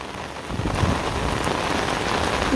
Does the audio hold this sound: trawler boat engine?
no